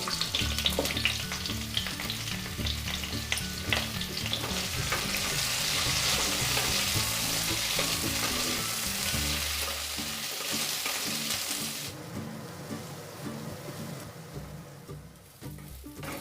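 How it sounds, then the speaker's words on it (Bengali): Cauliflower frying over low heat in mustard oil in a wok, a steady close crackling sizzle with occasional stirring clatter that thins out and quiets near the end. "এবার ফুলকপিগুলো কম আঁচে ভেজে নেব।"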